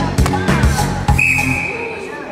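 A referee's whistle blown for a foul at a professional improvisation match, one sharp sustained blast over a lively crowd, with a voice talking just before.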